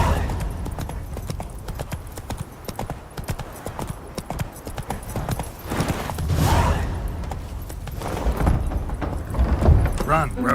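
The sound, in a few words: horse Roach galloping, clip-clop, in The Witcher 3 video game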